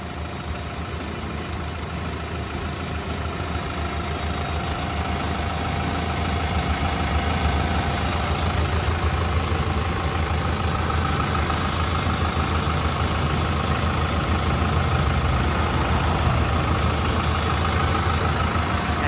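The Isuzu 4HK1 diesel engine of a Hitachi ZW140-5B wheel loader idles steadily nearby, a continuous low rumbling hum with no change in speed and no voices.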